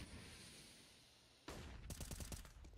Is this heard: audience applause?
no